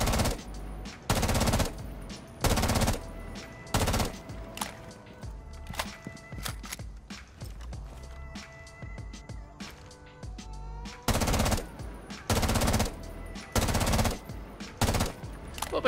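Automatic weapon fire held down in Rainbow Six Siege, long sustained bursts of rapid shots loud and close, broken by short gaps and softer game noise in between.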